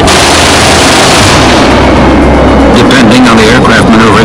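Su-27 cannon fire in a flight simulator game: loud, dense bursts of gunfire over a roaring jet background, continuous and close, with a voice talking over the later part.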